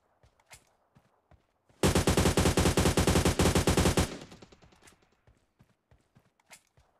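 Rapid automatic gunfire from PUBG Mobile Lite erupts in a loud, dense burst of about two seconds, with scattered single shots and footstep-like clicks before and after.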